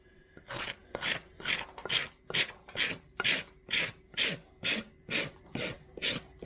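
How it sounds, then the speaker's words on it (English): A farrier's rasp files a horse's hoof wall down toward the sole during a barefoot trim, about a dozen even, rhythmic strokes close up, with no talk. "taking this hoof wall about back down to sole here for just a normal trim"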